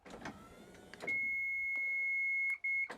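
A Toyota Hiace Welcab wheelchair lift alarm: a steady, high electronic tone sounds continuously for about two seconds, briefly drops out, then resumes, following a few short clicks and mechanical noises.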